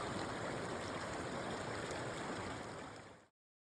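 Arkansas Creek flowing along a Forest Service road near the Colorado line, a steady broadband rush and gurgle of water heard close and alone, cutting off abruptly near the end.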